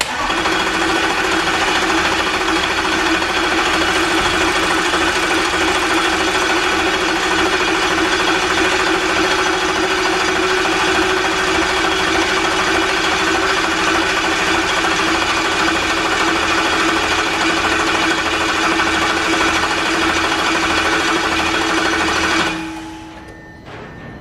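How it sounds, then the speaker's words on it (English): Audi RS4 V8 engine cranking over under compression without the fuel pump attached, a loud continuous rapid rhythmic churn from the starter that holds steady for over twenty seconds, then stops abruptly. "I'm going to just do one more turnover with compression, with the fuel pump still not attached."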